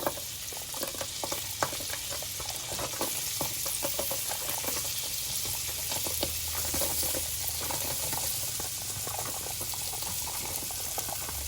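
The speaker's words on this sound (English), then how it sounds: "butter on medium-high heat so I can saute my onions" Onions sauteing in melted butter over medium-high heat give a steady, dense sizzle with faint crackles and occasional stirring scrapes, continuous and close throughout with no talking.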